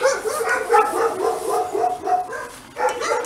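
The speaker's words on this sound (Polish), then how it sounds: "Jedny piesek." A dog barking repeatedly in steady bursts near a historic town in the Pyrzyce area, moderately loud against light background noise.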